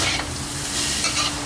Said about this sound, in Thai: หลังจากปรุงรสได้ที่นะครับก็ตามด้วยต้นหอมซอยนะฮะแล้วก็ผัดให้เข้ากัน